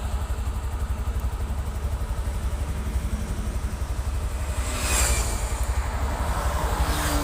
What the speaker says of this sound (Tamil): பாருங்கள் எவ்வளோ வண்டி எவ்வளோ ஃபாஸ்ட்டாக போகுது பாருங்கள்